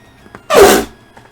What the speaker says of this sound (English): Gonna sneeze.